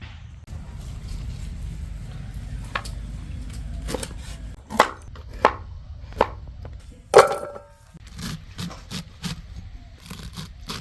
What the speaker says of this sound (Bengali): মূলটা ফার্স্ট টাইম কাটলাম